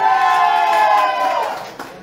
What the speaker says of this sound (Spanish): ¡Aplauso para doña Meche!